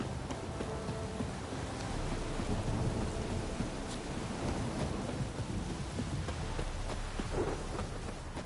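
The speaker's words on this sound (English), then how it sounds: "It's raining buckets!" Heavy rain and rolling thunder in The Witcher 3 video game form a steady, dense downpour with low thunder rumbling beneath it, moderately quiet and without speech.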